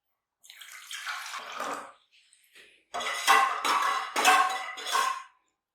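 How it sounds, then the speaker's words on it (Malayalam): Water is poured into a bowl and stirred to dissolve salt for paratha dough, heard as two bursts of close splashing and swishing, the second broken into several sharp stirring strokes with clinks of the bowl. "ഈ പാത്രത്തിലേക്ക് ഒഴിച്ചിട്ടേ ഒന്ന് കലക്കിയെടുക്കാം"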